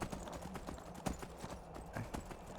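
Horse hooves galloping in the video game Skyrim, rapid repeated clip-clop beats on the ground, steady and fairly quiet with no talking.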